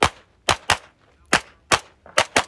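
Seven sharp pistol shots crack in a shooting match, fired in quick uneven pairs and singles over about two and a half seconds, loud and close with short silences between.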